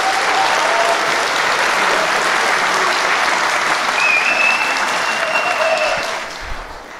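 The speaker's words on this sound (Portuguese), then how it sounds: "Muito obrigado pelas palmas" An audience bursts into steady, full applause that holds evenly for several seconds before tapering off toward the end.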